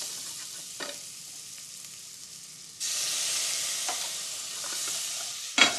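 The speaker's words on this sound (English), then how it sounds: "Sort of scrape that brown off of the bottom." Utensil scraping browned residue off the bottom of a risotto pot after a small splash of liquid, with steady sizzling and frying hiss that jumps louder partway through and ends in a sharp scrape.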